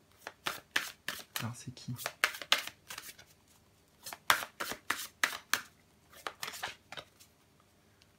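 Tarot cards shuffled by hand in a run of quick, crisp riffles and slaps, close and fairly loud, with a short spoken question partway through.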